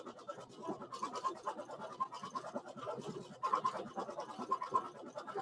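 A Baby Lock IQ Designer embroidery machine stitching an appliqué on silk, a steady faint rapid whirring and needle chatter running continuously throughout.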